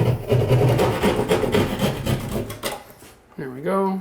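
A hole in bathroom drywall is cut and squared off with quick, rhythmic rasping saw strokes that are close and loud for about three seconds, stop, and are followed by a brief spoken exclamation.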